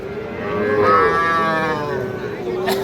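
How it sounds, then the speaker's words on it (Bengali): A single long, loud moo from a calf or young bull at a weekly cattle market in Lalmonirhat, close by and rising then falling over a low background murmur. "সবচেয়ে ছোট ছোট সার ও বকনা বাছুর গরু"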